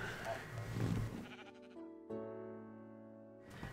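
A sheep in the Minecraft video game lets out a drawn, wavering bleat after a burst of noisy sound, then a second bleat follows, moderately close and without talk over it.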